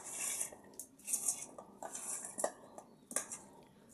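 Raw chicken being mixed with salt, turmeric and black pepper powder for a Bengali-style roast, giving soft, close, irregular clinks and wet scraping at a bowl with a few sharper taps.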